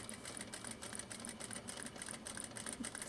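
A sewing machine stitches steadily at close range, its rapid rhythmic clatter repeating evenly throughout at moderate volume with no talking.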